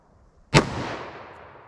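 A single sharp gunshot from a snub-nose revolver load, a loud close crack that rings out and decays over about a second in an open outdoor space.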